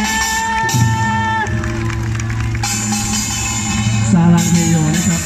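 An audience at a Korean mask performance during an international mask festival in Thailand cheers and applauds loudly over sustained musical tones, with shouts and whoops rising in bursts.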